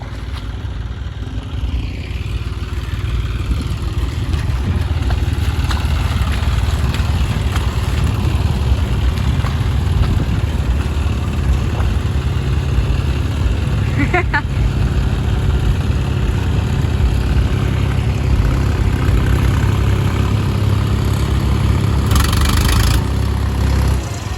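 A tractor fitted with a rotavator runs in a flooded, puddled paddy field, its engine making a continuous mid-pitched drone that stays fairly steady and close, with a brief clatter partway through.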